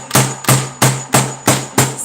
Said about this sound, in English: all I did was just hammer it